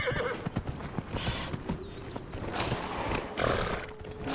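Horse hooves clip-clop unevenly with a neigh in Dragon Age: Inquisition, layered with game ambience and moderately loud throughout, while a player occasionally talks.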